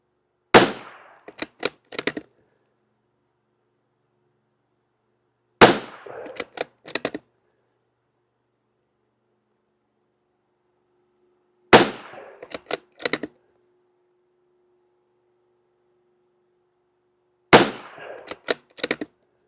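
Savage Mark II FV rifle firing budget target ammunition at a range, with four sharp, loud reports spaced several seconds apart. Each shot is followed by a quick cluster of clicks from the bolt being worked, with silence between shots.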